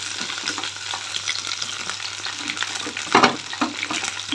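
Okra pieces fry with onion masala in a pan, a close, crackling sizzle broken by stirring scrapes and one louder burst of frying as the mixture is tossed, with no talking.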